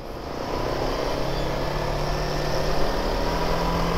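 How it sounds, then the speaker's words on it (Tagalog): Morning road traffic makes a dense, steady rumble of engines and tyres from nearby vehicles, with low idling drones running continuously and no clear break. "Ang aga, sir, traffic na, no?"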